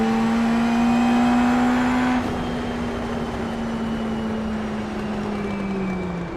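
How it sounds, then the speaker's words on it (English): A race car engine in the iRacing video game drones loudly with a rising whine from the turbo spooling, then the pitch settles and slowly falls in a steady engine tone, up close with no talk. "I love the turbo spool."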